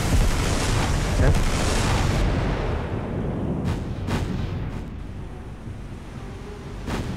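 Warship guns from an Imperial Japanese Navy campaign in a naval combat game fire in a loud opening salvo with deep rolling booms. A few sharper, fainter reports follow over a low sea-like rumble.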